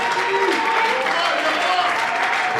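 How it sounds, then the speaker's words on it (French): Audience applause at an award ceremony, dense steady clapping from a crowd, loud and continuous, with voices faintly mixed in. "Sur nos applaudissements, mesdames et messieurs."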